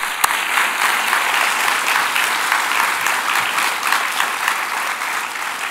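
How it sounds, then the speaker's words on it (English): An audience applauds at a presidential address, giving a steady, dense round of clapping that fills the hall evenly from start to finish with no talk over it. "So I think we need to give him another round of applause."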